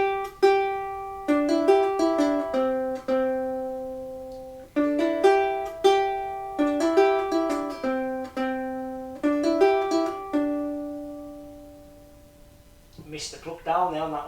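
A ukulele plucks a song riff as a bright, bouncy melody of repeated picked notes in several phrases, close and clear, ending in a brief burst of other sound.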